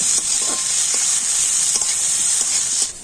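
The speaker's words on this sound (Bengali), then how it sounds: "তো পেঁয়াজটা এখন আমি লাল লাল করে ভেজে নেব" Finely chopped onion and green chillies frying in a pan, a loud, hissing sizzle that stays steady throughout, punctuated by occasional stirring knocks, with nobody speaking.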